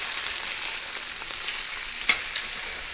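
A flipped ribeye steak sears in a pan for pizzaiola, giving a steady, even sizzle with a brief clink near the end.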